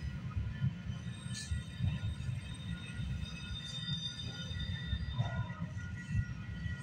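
Long freight train rolling past at night, a steady low rumble of railcars with faint intermittent wheel squeals over it, heard from trackside at a moderate distance.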